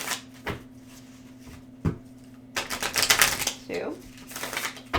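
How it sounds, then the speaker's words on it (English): Tarot cards being shuffled by hand: a few sharp taps and riffles, then a longer burst of crisp papery flutter and slapping, close and fairly loud, with a voice speaking around it. "I'm going to go ahead and shuffle 3 times."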